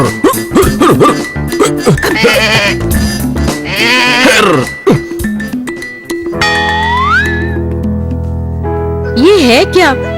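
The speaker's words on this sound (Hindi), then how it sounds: "ये बकरी कहाँ से ले आए हो तुम?" A goat in an animated Akbar and Birbal tale gives a few wavering, rising-and-falling bleats near the end, after a stretch of lively talk and calling by several voices.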